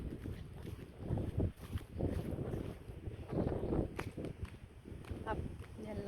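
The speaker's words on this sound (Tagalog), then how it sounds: "Ang hangin!" Strong wind on a hilltop roars and buffets the microphone in uneven gusts, with faint voices partly buried beneath it.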